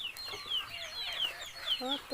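Chickens clucking nearby in short, busy bursts with a few higher chirps, outdoors with light background noise.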